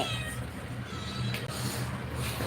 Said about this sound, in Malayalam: പൂച്ച പൂച്ച പൂച്ച